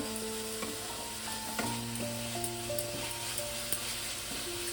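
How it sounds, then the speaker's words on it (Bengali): A sweetened carrot filling for patisapta sautéing in a pan, a low steady sizzle with faint scrapes of stirring throughout, heard alone and fairly quiet. "আমি আর মিনিট 2-3 কষিয়ে পুরটা তৈরি করে নামিয়ে নেব"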